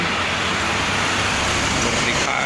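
Steady roar of traffic on the Jakarta–Cikampek toll road in the late afternoon, with buses rushing past in rain, a dense continuous wash of road and engine noise, loud and close, with no clear gaps.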